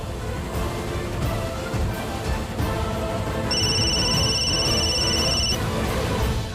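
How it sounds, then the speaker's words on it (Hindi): A telephone rings with a bright electronic trill partway through, heard over a busy, noisy background of murmuring and clatter. "आरती का फोन।"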